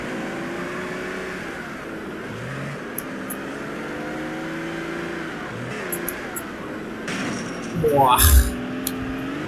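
Car engine revving in GTA San Andreas, a continuous droning motor whose pitch climbs and falls as the car speeds along, ending in a louder burst near the end, while someone talks over it.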